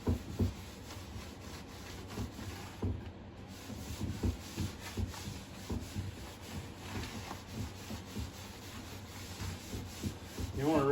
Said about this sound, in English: Need to wait a minute or two before you rub this off